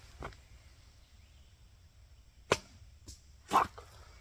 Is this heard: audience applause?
no